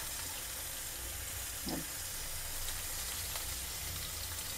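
Okra masala frying in a pan, a constant dense sizzle and crackle close by with one brief low knock partway through, no voices.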